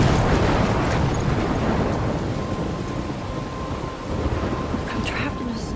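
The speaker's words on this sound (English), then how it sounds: "I'm trapped in a storm?" A thunderstorm in the video game Life Is Strange, with steady heavy rain and rolling thunder rumbling loudly throughout, and no voices.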